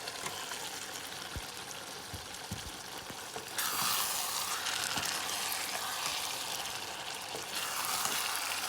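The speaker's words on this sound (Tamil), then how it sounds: "நல்லா மசாலா அந்த முட்டைக்குள்ளே சேரும் வரையும் நல்லா கிண்டுவோம்." Masala being stirred together with halved boiled eggs in a frying pan for chicken fried rice, a steady broad sizzle with a few soft scraping knocks early on, the frying growing louder partway through, no voices.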